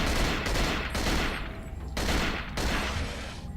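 Bursts of gunfire in the survival horror game Cold Fear, several loud, dense volleys separated by brief gaps, with no talk over them.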